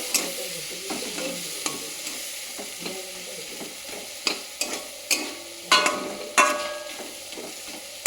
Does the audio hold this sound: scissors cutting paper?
no